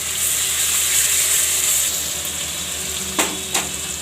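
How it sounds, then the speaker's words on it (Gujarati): Ginger, chillies and asafoetida fry in a pan with a loud, steady hiss of hot oil, and near the end two quick scraping knocks come from stirring. "અને આપણે આ આદુને મરચાં નાખી દેવું અને હિંગ નાખી દેવું મિક્સ કરી લઈશું"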